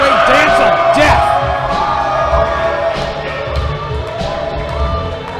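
An indie wrestling arena crowd cheers, whoops and hollers steadily through a main event, a loud, busy wash of voices with deep thuds and rumbles underneath.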